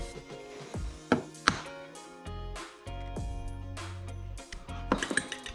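Fish is cubed with a knife for beer batter, giving a series of sharp, irregular chops and board knocks close by, with no talk.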